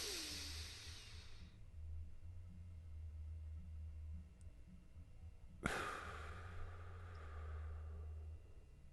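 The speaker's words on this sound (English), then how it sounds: "you're going to breathe in through your nose for 4." Slow, soft breaths drawn in and let out during a calm breathing exercise, faint and close over a low background hum, with a long pause between them.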